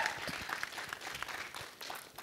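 Audience applause fills a film success meet hall, a dense, continuous clapping from a crowd that swells and ebbs, heard fairly faint and at a distance.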